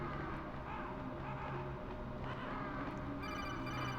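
A codec phone call ringing in the video game Metal Gear Solid: a quick, regular electronic trill enters near the end over a low, constant game ambience.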